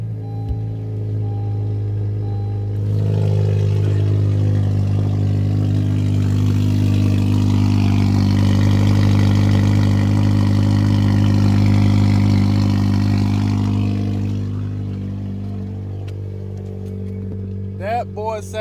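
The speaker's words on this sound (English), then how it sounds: "The cold start is about to be so loud" Car engine cold start with a loud, deep, droning rumble that swells into a sustained rev before settling back to a lower idle, close by, with a voice talking briefly over the end.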